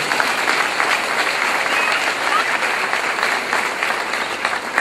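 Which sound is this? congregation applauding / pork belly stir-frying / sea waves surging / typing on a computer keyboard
congregation applauding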